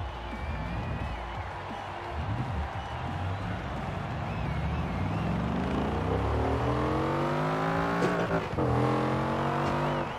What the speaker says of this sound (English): Oh god, that engine note is great.